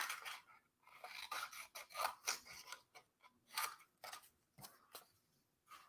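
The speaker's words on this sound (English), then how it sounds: "I think I want to cut it apart." Scissors snip through paper being cut apart for an art journal, a close run of crisp, irregular cuts and rustling crunches with short pauses between strokes, quiet and without talk.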